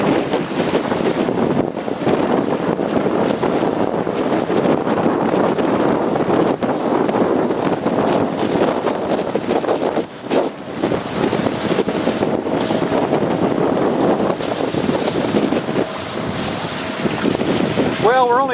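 A motorboat cruising slowly at about 1600 RPM off volcanic St. Lucia, its steady low engine drone continuous and near, mixed with strong wind buffeting and water rush throughout.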